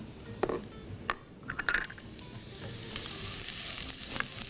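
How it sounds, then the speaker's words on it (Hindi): Chopped onions fry in a pan, a steady hiss and sizzle building over the stretch, punctuated early by a few clinks and stirring knocks, with no talk. "और ये फ्राई हो रहा है"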